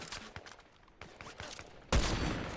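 Gunfire in the Fortnite video game: scattered sharp shots early on, then a loud, abrupt burst of rapid firing that continues to the end.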